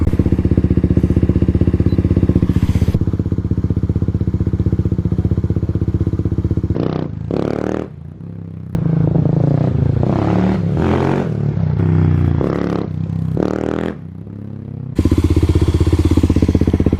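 Kawasaki KLX351 dirt bike ridden around a parking lot, loud engine surging and dropping in repeated bursts, with brief near-silent gaps as it cuts off or passes the camera.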